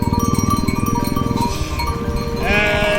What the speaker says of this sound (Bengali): দাঁড়িয়ে ভেড়ার পালকে সাইড দিচ্ছি।